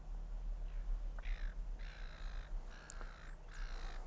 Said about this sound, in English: Well, of course you can hear the seagulls.